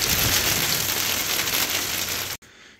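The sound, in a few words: hail falling outside by greenhouse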